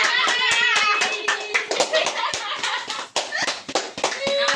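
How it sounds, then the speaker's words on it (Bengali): A family claps together at an anniversary celebration for a couple's 42nd wedding anniversary, with dense, uneven handclaps filling the room and children's voices chattering over them. "হাততালি দাও।"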